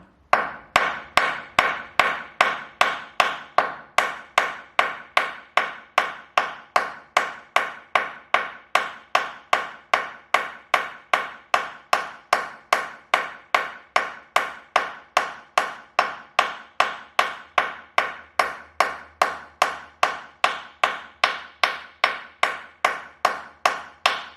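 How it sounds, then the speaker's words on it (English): Steady hammer taps drive a bush into the casing of a Ferguson TED20 tractor gearbox, sounding as a long, even run of light, sharp metallic knocks, close and clear, with no talking. "I just tap it gently straight with the hammer."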